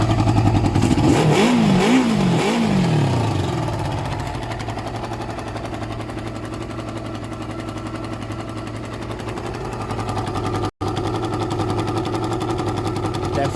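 A Suzuki ZL600 Eliminator motorcycle engine runs after carburetor work with no choke, revving in a few quick rising and falling bursts before settling into a steady, loud idle with a rough, pulsing exhaust note.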